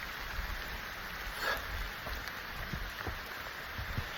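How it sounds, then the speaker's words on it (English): Rain falling steadily on the Appalachian Trail, a soft broadband patter with scattered nearby drops, continuous and fairly quiet throughout with no talking. "Yay, it's raining again."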